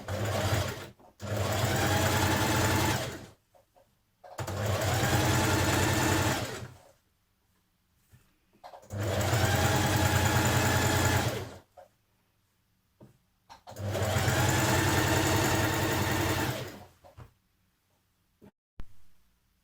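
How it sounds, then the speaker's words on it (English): A sewing machine top stitching a jersey dress neckband runs in four steady bursts of about two to three seconds each, separated by short pauses, loud and close with no talking. "So now just top stitching just a couple of millimetres away"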